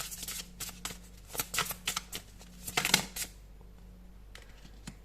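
Tarot cards are shuffled close up in quick, crisp riffling bursts that fade into quiet near the end, soft and alone.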